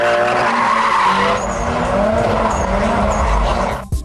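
A 1989 car with an SR20 turbo engine drifts sideways, tires skidding and squealing loudly and continuously over a strained engine roar, ending in a brief clatter.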